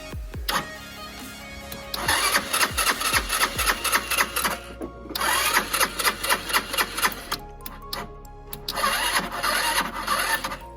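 A Lexmoto FMS 125 motorcycle cranks repeatedly on its starter without firing, loud and close, in several long bursts of rapid whirring separated by short pauses, on a weakening battery.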